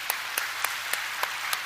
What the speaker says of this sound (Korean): 우리 찬양들 위해서 박수 한번 하시겠습니다